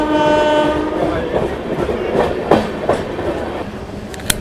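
The SM Visvesvaraya train sounds a loud, sustained horn on a journey from Visakhapatnam to Araku, followed by rolling rail rumble and a few sharp clanks close by.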